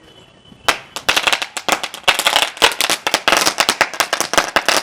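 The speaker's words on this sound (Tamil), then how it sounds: "சரவெடின்னு இருக்குல்ல, எப்படி வெடிக்குது அப்படின்னு சொல்லி பார்க்கலாம்." A saravedi string of firecrackers bursts inside a cardboard box, setting off a fast, loud, uneven volley of sharp cracks that runs unbroken for several seconds after a short quiet start.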